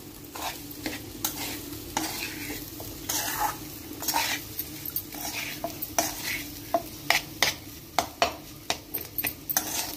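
Spicy Andhra-style fish chena fry sizzles in a pan under steady stirring, with repeated metallic scrapes and clinks of a spoon against the pan over continuous frying hiss.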